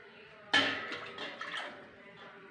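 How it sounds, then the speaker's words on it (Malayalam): Water is poured into a pan of sardine curry: a sudden splashing rush that starts loud, then settles into a softer, uneven trickle and bubbling for the next couple of seconds, with no voices. "കുറച്ച് വെള്ളം കൂടി ഒഴിച്ച് കൊടുക്കാം."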